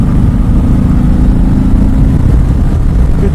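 Loud, unbroken low rumble of a 2018 Harley-Davidson Sport Glide 107 engine at highway speed, with a constant throb and roaring wind noise.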